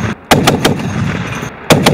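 Bursts from a Browning machine gun fired outdoors at a military training range, loud and close, with two quick reports, a pause full of echo, then two more.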